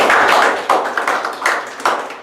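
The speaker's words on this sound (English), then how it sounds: "I request all of you to give a big round of applause to him" A small audience at a Toastmasters club meeting claps in a loose, sparse round: distinct close claps land in uneven bursts over a couple of seconds, with no talking.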